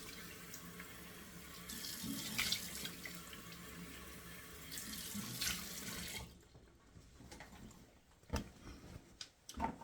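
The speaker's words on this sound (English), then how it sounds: "Nice cold water out of the tap." Cold tap water gushes into a sink and is splashed onto a freshly shaved face, a steady rushing stream followed by several quick, sharper splashes, fairly faint overall.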